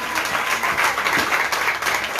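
A church congregation applauds, a dense, steady wash of many hands clapping together at an even level for the whole moment.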